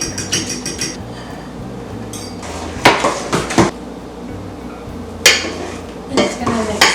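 Egg being whisked into a soft potato dough for gluten-free croquettes, with clinks and scrapes of utensil against bowl in bursts, interspersed with clattering knocks and quieter pauses, close by.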